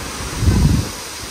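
Strong typhoon wind gusts roar against the microphone in a short, loud low rumbling surge, with no one talking.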